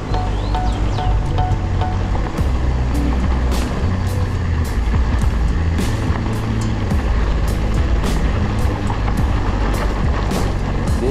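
A motor vehicle passes on a road, its loud, steady rumble carrying through broadband noise with sharp clicks and ticks scattered throughout, no voices heard.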